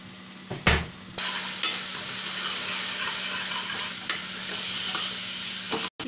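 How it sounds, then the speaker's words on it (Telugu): Onions, salted and tinted with turmeric, fry in a pan for an egg pulusu, sizzling steadily up close while a spoon scrapes and stirs in occasional clatters, no voices over it. "ఈ విధంగా ఉల్లిపాయలు బ్రౌన్ కలర్ వచ్చేదాకా వేపుకొని"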